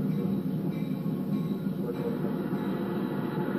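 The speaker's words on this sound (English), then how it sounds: "Look at that old CR locomotive." An old CR locomotive train runs past with a steady, dense rumbling roar, continuous and fairly loud throughout, with no talk over it.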